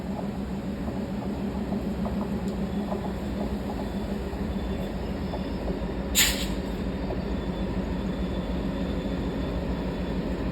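Rameswaram–Madurai passenger train departing Ramanathapuram, a steady low rumble of rolling wheels and carriages heard from inside, with a brief sharp squeal or clank near the middle.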